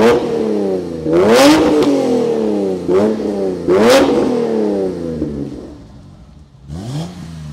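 A car engine revs through a valved stainless exhaust with a stainless manifold and intermediate pipe. Several loud, close blips rise sharply and fall back to idle. There is a pause before a final rev.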